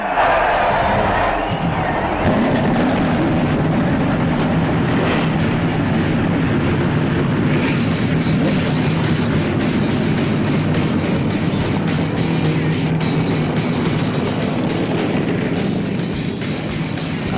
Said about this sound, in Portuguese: Gentlemen, start your engines!